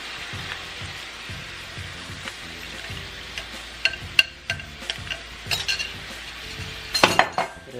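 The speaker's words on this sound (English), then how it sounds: "Stir it back up too to make sure the cornstarch is nice and stirred in there." Pepper steak sauce thickened with cornstarch being stirred in a pan: gentle bubbling sizzle under repeated spoon scrapes and light metallic clinks against the pan, near and moderate, with a few sharper knocks toward the end.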